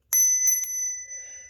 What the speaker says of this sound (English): It's a bell that is rang by a supposed spirit